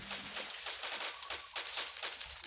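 Rapid automatic gunfire in the online shooter Crisis Action, dense overlapping bursts of shots with a few brief pauses, fairly quiet and compressed, with no talking.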